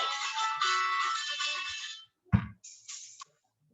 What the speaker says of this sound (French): Un téléphone qui sonne, toujours sympathique.